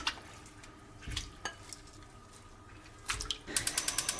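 Pig trotters dropped into a pot of cold water in a kitchen, with a few wet splashes and sloshing, then a run of quick clinking knocks as they settle in the pot.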